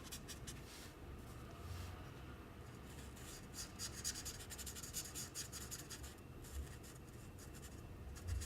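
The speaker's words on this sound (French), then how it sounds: "On va colorier en gros toute l'armure du personnage" A red Copic alcohol marker rubs steadily across paper, coloring in a character's armor in a Fortnite skin drawing, giving a continuous soft scratchy rasp with small irregular strokes and no voices.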